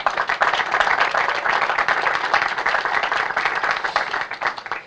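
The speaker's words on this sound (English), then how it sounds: "Round of applause, please." A crowd at a building dedication ceremony breaks into applause, many hands clapping densely and evenly for several seconds before gradually thinning toward the end.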